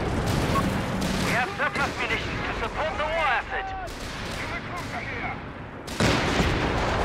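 In the video game Company of Heroes 3, a 2-pounder anti-tank gun fires amid a dense battle mix of gunfire and booms, loud and continuous, with a voice talking over the action.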